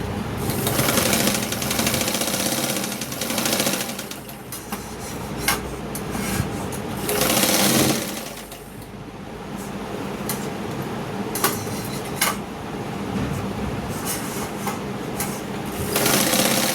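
Sewing machine stitches a blouse lining with a fast, rhythmic mechanical chatter that comes in bursts, briefly slowing or pausing between runs and then starting up again, close and fairly loud.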